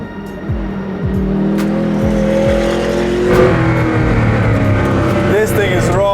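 An 1,800-horsepower Hennessey hypercar engine revs and roars up through rising gear shifts as it accelerates hard on a track, loud and close with a rasping tone.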